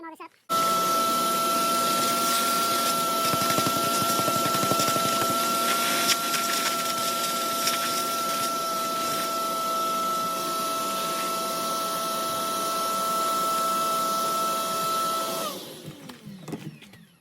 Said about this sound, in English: Now I want to vacuum all this up.